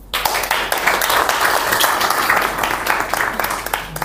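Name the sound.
audience applause at workshop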